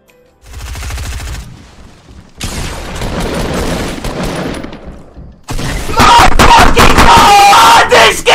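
Rapid SMG bursts from a Fortnite match crackle loudly in several separate strings, the last one densest and loudest, with short pauses between them.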